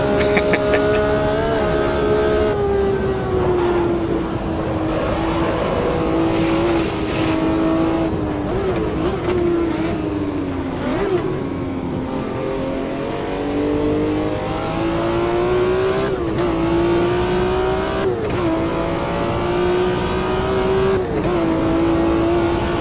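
A 3-pedal, five-gear car lapping the Nordschleife in the video game Automobilista 2 holds a loud, close engine note that climbs through the revs and drops sharply at each gear change.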